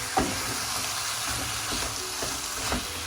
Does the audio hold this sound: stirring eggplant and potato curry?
yes